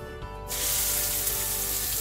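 Onions dropped into hot regular cooking oil on a stovetop, bursting into a loud, steady, hissing sizzle that continues without pause and with no talking.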